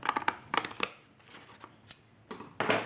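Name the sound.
scissors cutting paper for a sketchbook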